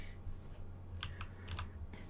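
Quiet, light keystrokes on a new computer keyboard come in a few scattered clicks and a short cluster, faint over a steady low hum.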